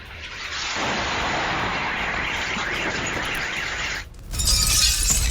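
A kamikaze drone explosion in a car park in Reutov, Moscow: a loud, sustained blast roar with crackling debris that cuts off, then a second burst of harsh noise, close and overwhelming.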